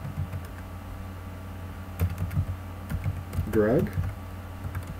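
Keys on a computer keyboard clack in short, sparse bursts at close range beneath someone speaking quietly, who is entering text into a Word document.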